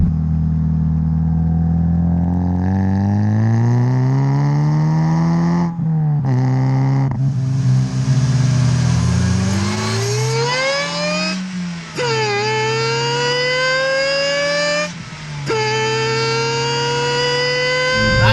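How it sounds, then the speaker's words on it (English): A supercharged Toyota Yaris accelerating hard through the gears, its engine note climbing with a high supercharger whine rising over the drone, dipping briefly at each gear change. "Supercharger whine coming from such a little car, even 4th gear, the pickup."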